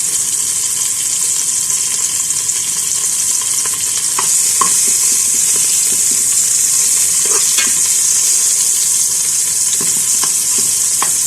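Bitter gourd (ampalaya) stirred and sautéed in oil in a large pot, a loud steady sizzle filling the whole stretch, with scattered scraping clicks from a utensil and no voices.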